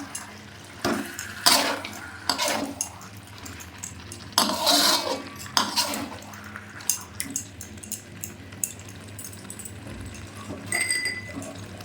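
Chicken for Bengali chicken kosha being stirred in a covered pot: a spoon scrapes and clinks against the metal in irregular strokes, with wet shuffling and some louder knocks against the rim, close by with no voices.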